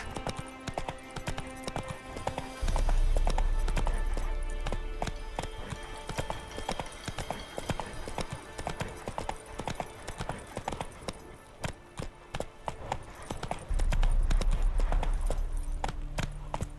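Horse hooves clip-clopping in a steady trot in The Witcher 3, close and continuous, with a deep low rumble swelling in twice beneath the hoofbeats.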